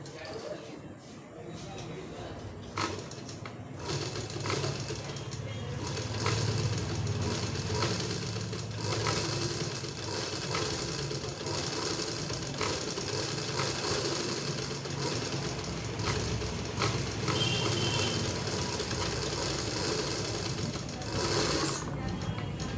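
A sewing machine stitches cloth in a beginner tailoring lesson, running as a steady, close mechanical whir and rapid needle clatter for most of the time, while someone talks over it.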